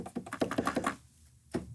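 Keys of a Novation Launchkey 37 mk3 MIDI keyboard are pressed in a quick run of soft, springy plastic clicks and thumps, then a pause and one more press, close and quiet.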